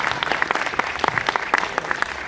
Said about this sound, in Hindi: जोरदार एक बार फिर से तालियां